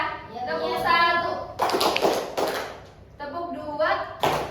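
Children clap together in short bursts during a counting clap game in an Indonesian classroom, with a teacher speaking between the bursts.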